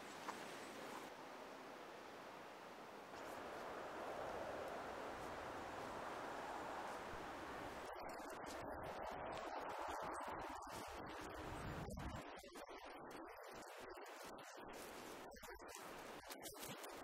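Wind gusting outdoors in open country, a broad steady roar buffeting the microphone with rustling bursts, continuous throughout and with no voices.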